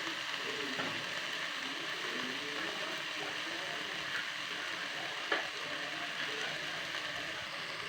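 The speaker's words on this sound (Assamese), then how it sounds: "ভাজি প্ৰায় হ'লেই, আৰু অলপ আছে।" Chopped taro stems (dudh kochu) cooking in a pan in a home kitchen, a soft continuous sizzle and faint crackle with occasional stirring clinks, fairly quiet and steady throughout with no one talking.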